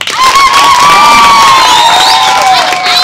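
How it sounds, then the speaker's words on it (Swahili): A large crowd of sports participants at a Dodoma city event cheers and shouts loudly, a dense roar of voices with whoops and some clapping, sustained and close. "Basi makofi kwenu"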